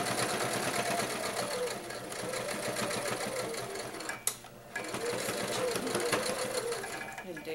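A sewing machine runs steadily while back stitching a fabric face mask, a loud continuous motor whir with a brief pause and sharp click midway before it resumes.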